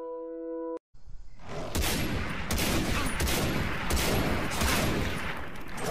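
Gunfire from a rifle in the video game Far Cry 3, a dense, loud run of rapid shots with heavy booming tails after a brief tonal intro and a short silence.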